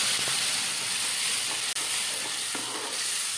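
Tomato and onion paste fries in a pan for an Assamese-style chicken curry, giving a steady, close sizzling hiss with faint stirring scrapes and no talk.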